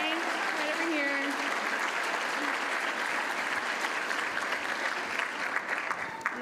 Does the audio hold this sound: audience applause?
yes